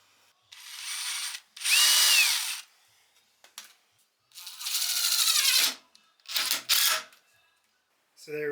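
Power drill driving a screw into an old wooden bench after pre-drilling, in several loud whirring bursts separated by short pauses and small handling knocks.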